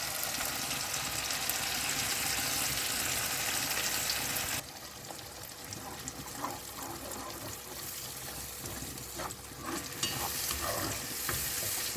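Blended paste of dried red chili, garlic and shallots stirred and sautéed in hot oil, a steady close sizzle with scraping spoon strokes that quiets and crackles more unevenly after a few seconds.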